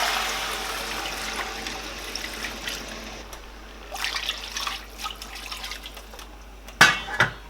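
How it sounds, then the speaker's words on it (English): Water poured into a pot of cooking fish, a soft continuous trickle and splash at moderate distance, ending with a couple of sharper clanks near the end. "I'm going to add water."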